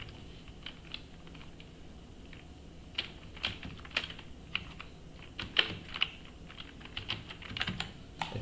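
Quick, irregular clicks of a computer keyboard as a word is typed in Corel Draw, soft and close against a faint background hum.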